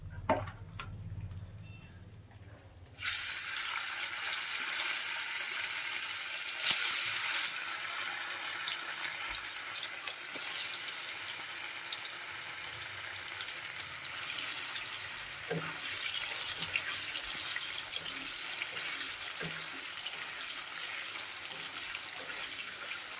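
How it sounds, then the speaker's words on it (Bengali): Paneer hisses and sizzles as it lightly fries in oil in a home kitchen pan, a steady, bright crackle that starts abruptly after a few quiet seconds and continues evenly, with occasional small clinks. "তো চলো সবার প্রথমে পনিরটা ভেজে নেওয়া যাক।"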